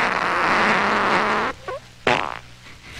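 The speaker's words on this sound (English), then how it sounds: "99 tracks of flatulent sound effect." A novelty CD of flatulence effects plays a long, loud, buzzing fart lasting about a second and a half, then a short squeaky one, then another sputtering burst.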